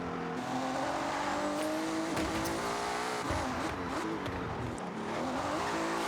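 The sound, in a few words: meta-build car driving in the video game Forza Horizon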